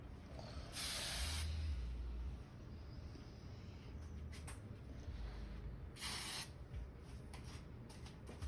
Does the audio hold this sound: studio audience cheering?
no